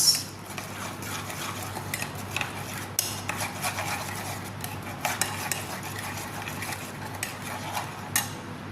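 Rice being mixed with lemon juice and clarified butter, a steady run of soft scraping and clinking of a utensil against the pot, with a few sharper knocks standing out, no voices.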